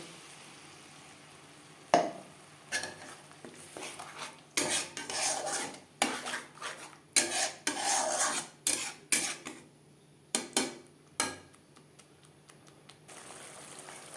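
A paste of cumin, ginger, tomato and turmeric is stirred in a pan for fish-head curry. A spoon makes quiet, intermittent scraping strokes in uneven bursts, with hushed pauses between them.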